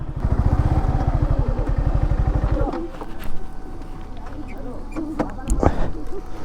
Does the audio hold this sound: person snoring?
no